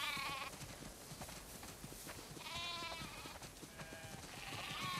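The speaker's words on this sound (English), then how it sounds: "Wow, that's a lot of sheep." Several sheep bleat in turn around a barn in The Last of Us Part II, some near and some farther off, with soft shuffling and ambient noise between the calls.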